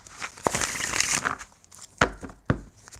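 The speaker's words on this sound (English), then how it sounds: "While I shuffle these cards." Tarot cards being shuffled by hand, a papery riffle and rustle followed by a few sharp snaps and taps as the deck is squared, close and moderately loud.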